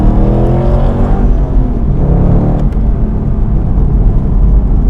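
A track-prepared 2004 Chevrolet C5 Corvette Z06 accelerating hard, heard from inside as a loud, steady engine drone with harmonic tones climbing as it pulls, joined by road roar.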